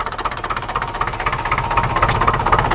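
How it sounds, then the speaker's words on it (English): Massey Ferguson MF-35 tractor engine, recently revived after damage, running close by with a fast, steady knocking diesel chug and a rapid regular rhythm. It stays loud and unbroken throughout. "The Massey Ferguson MF-35 is back alive and everything looks okay."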